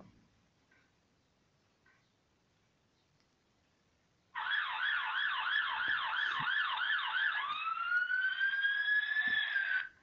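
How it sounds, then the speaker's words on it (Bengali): After a quiet stretch, the siren of two arriving fire engines starts up close and loud, wailing up and down rapidly, then shifts to a long, steady rising tone. "প্রবলভাবে ঘণ্টা বাজাতে বাজাতে দুটো দমকলের গাড়ি এসে থামল"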